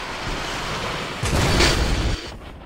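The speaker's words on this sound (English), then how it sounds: "you can hear the explosion from all the way over here" A distant explosion from high explosives in the Fortnite battle royale game rumbles up as a low broadband boom rising out of steady game ambience, lasting under a second before fading back.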